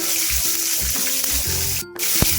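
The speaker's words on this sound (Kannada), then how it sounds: "ಎಲ್ಲ ಹಾಕೊಂಡು ಫ್ರೈ ಮಾಡ್ಕೊಳ್ಳೋಣ" Peanuts, a handful of dried red chilies and coriander frying in a pan give a steady, close sizzle, with a few soft stirring knocks and one brief dip in the hiss.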